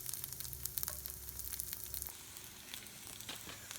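Peppers sauteing in vegetable oil in a pan, a steady crackling sizzle with brief louder spits, continuous and close, with no talk.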